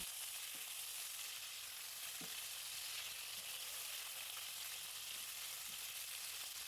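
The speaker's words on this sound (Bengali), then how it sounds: "কিছুক্ষণ নেড়ে চেড়ে ঢেঁড়সগুলোকে ভেজে নিব" Okra frying in oil with dried chilies, a steady soft hiss of sizzling throughout with occasional light knocks of a spatula stirring, no talking.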